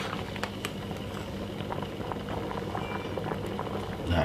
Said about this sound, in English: I have 2 eggs which I've been boiling to use in the potato salad.